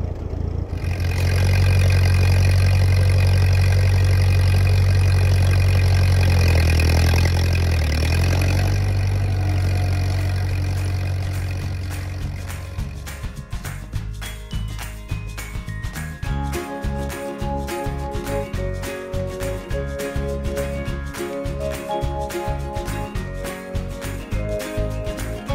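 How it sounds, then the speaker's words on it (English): A tractor pulls a tine harrow across a farm field in October, its engine a loud, steady drone that eases off and settles into a rougher running rhythm with no voices. "So I think I'm going to do a little tine harrowing."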